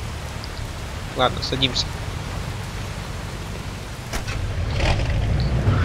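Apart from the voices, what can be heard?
rain in video game Mafia 2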